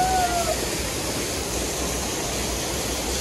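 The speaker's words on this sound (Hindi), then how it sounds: "ये वाटरफॉल के एग्जैक्टली नीचे हूँ मैं और उस बड़े वाले वाटरफॉल के पास जाना है" Waterfall heard from directly beneath it, a loud, dense, unbroken roar of rushing water filling the whole clip.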